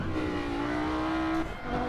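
Race car engine from the Rennsport racing sim plays a steady sustained drone at constant pitch, loud and close, then dips briefly as revs change near the end; no talking.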